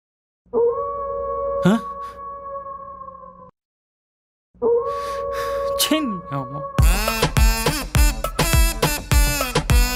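Two long, steady howls with a pause between, then a burst of rapid overlapping yelps and cries, loud and close.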